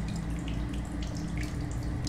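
Water runs steadily in a video game as a character drinks, a continuous splashing, trickling flow like a tap filling, fairly close and even, with no talking.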